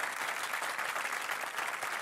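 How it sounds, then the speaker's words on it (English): A studio audience at a cooking and music show applauds steadily, a brief, even burst of many hands clapping heard alone. "Round of applause for Seema."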